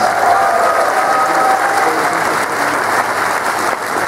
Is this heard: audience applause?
yes